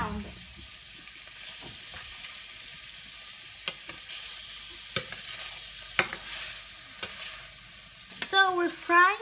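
Shrimp frying in a pan for a curry, steady hissing sizzle with sharp scraping clicks of a stirring utensil at intervals, and a brief clatter near the end.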